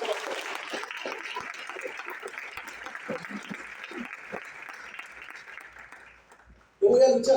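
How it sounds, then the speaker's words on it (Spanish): A church congregation breaks into loud, sustained applause that runs for several seconds, then fades out before a voice starts talking near the end. "Dale un fuerte aplauso."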